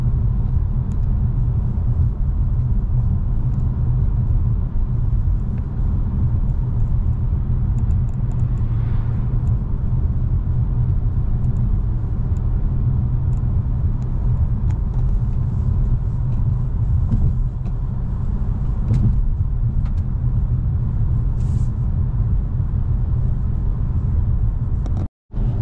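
A car cruising along a county road, with a steady low engine and tire rumble filling the whole stretch at an even level, with no talk over it.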